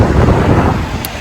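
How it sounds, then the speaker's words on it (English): Wind blows outdoors on a street corner near a small car park, with a steady, loud rumbling roar of gusts buffeting the microphone throughout. "Oh, it's windy."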